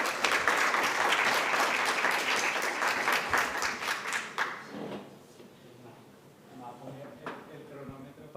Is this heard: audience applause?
yes